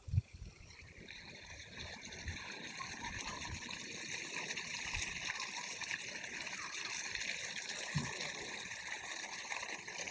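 Water of a roadside stream flows in a constant, even rush, soft and unbroken, with a few faint low knocks near the start and again toward the end.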